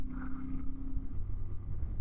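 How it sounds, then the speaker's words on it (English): Strong gusting wind on a high pass in Morocco's Atlas Mountains, around 2,300 meters, buffets a motorcycle rider's microphone with low, uneven rumbling roars that rise and fall continuously. "Not sure if you can hear the wind. It's literally hitting me from left to right and right to left."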